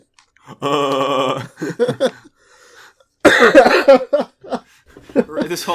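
A man coughs and clears his throat in rough bursts, with laughter and talk mixed in between.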